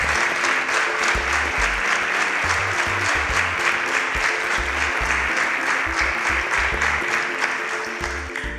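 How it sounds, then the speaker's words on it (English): A studio audience at the InterswitchSPAK children's competition show in Nigeria applauds the contestants, a steady, sustained wash of many clapping hands with a low musical hum underneath. "Please a round of applause for our Super Sparks."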